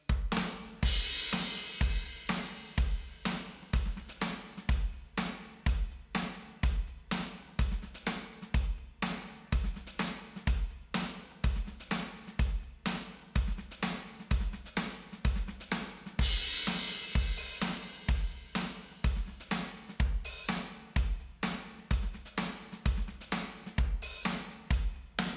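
Drum groove with 16th-note hi-hat patterns, a second pattern combined with the first, over steady kick and snare. Loops of busy, even hits repeat for the whole stretch, up front with no voices.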